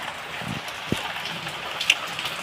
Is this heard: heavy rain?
yes